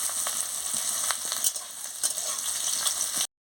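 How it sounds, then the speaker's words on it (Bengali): Onion frying in a pan, a constant close sizzle with occasional scraping stirs and small crackles, steady throughout and then cutting off abruptly near the end, with no one talking. "এবারে পেঁয়াজটা ভাজা হয়ে গেছে, এবারে আদা রসুনটা দিয়ে দিচ্ছি, দিয়ে ভালো করে ভেজে নিচ্ছি"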